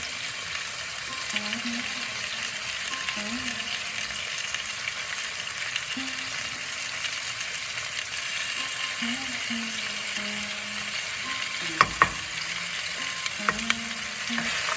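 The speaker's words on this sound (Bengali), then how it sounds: "একটু ভেজে শাকটা দিয়ে দেবো, আদার গন্ধটা চলে যায়।" Ginger paste, turmeric and cumin frying in a pan before greens go in, a soft continuous sizzle with a few faint stirring scrapes and light clicks, no talking.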